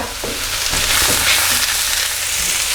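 Chips for salt and chilli fries sizzle loudly in a hot wok, a dense continuous crackling fry with soft stirring scrapes, close and without talk.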